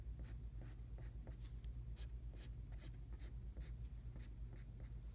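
Pencil or marker shading on paper, filling in two thirds of a drawn brownie pan, heard as a steady run of quick scratchy strokes over a low background hum, close and fairly quiet.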